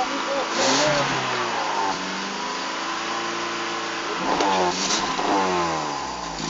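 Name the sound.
car engine revving with throttle held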